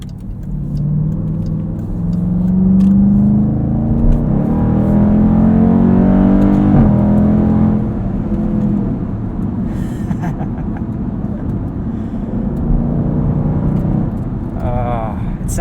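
A Dodge Durango SRT in sport mode revs hard from inside the cabin, its engine note rising and falling in strong pulls over a steady road rumble, with a brief lull partway through.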